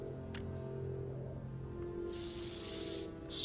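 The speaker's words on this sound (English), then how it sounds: "Spray some fucking bug spray onto the tequila bottle" Bug spray hissing in the video game CSI Hard Evidence, a steady close aerosol spray lasting just over a second toward the end, over a constant low game background hum.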